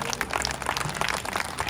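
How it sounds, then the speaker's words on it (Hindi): An audience claps together at a Gayatri yajna and wedding-anniversary ceremony, a brief burst of scattered, moderately loud applause with no talk over it. "सब ताली बजाइए इसके लिए आप"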